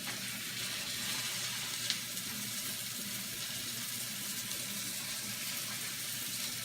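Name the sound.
flour-coated elk heart sizzling and frying in a pan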